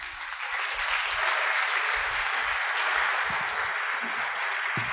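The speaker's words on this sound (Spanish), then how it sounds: "Un fuerte el aplauso para el doctor." Audience applause for a doctor after a conference talk, dense steady clapping filling the room alone with no voices, even and sustained throughout.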